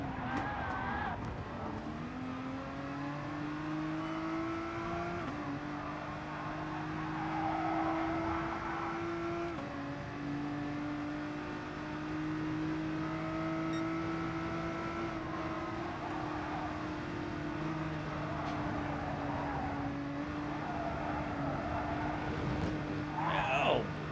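A racing video game car engine revs and accelerates in long rising and falling whines with gear shifts. It plays steadily at moderate loudness throughout, with game sound effects layered in.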